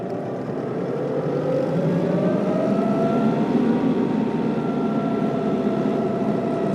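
An RX7320 tractor engine rises from idle to full throttle, a steady loud droning roar with a climbing tone that holds high throughout, no talking.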